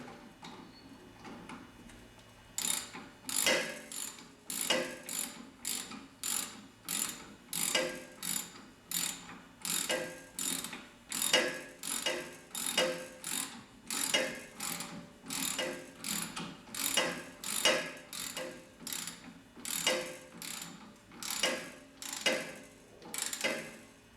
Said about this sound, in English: I'm just simply tightening up the nut on the back here to the cam bolt up here.